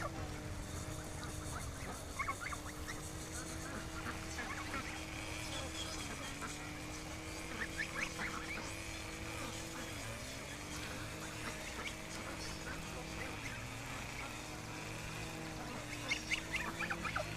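Goose honks repeat through the clip, fairly close, with overlapping calls over steady background noise.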